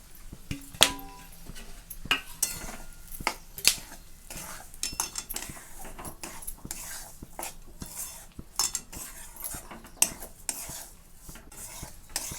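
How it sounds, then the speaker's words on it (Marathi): Moong flour with cashews, almonds and melon seeds is stirred and roasted in ghee in a pan for winter laddoos: a run of sharp spoon scrapes and metallic clinks against the pan, fairly close and irregular, with no talking. "तर बघा, छान असं आपल्याला हे तुपावर भाजून घ्यायचं आहे."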